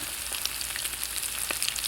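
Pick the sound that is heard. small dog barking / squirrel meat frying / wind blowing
squirrel meat frying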